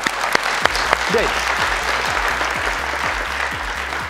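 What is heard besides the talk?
studio audience applauding game show team captains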